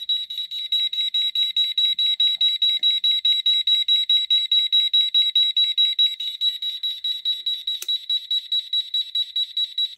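Airsoft capture-point antenna alarm switched on, a loud piercing electronic beep repeating rapidly and evenly, close by and alone, with the pulses slowing slightly toward the end.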